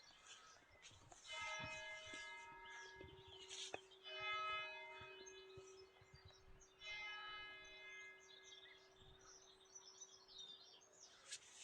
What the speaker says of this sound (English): Nice to hear the old clock chiming away, exactly on 12 o'clock.